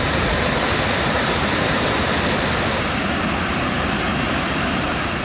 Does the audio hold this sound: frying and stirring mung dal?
no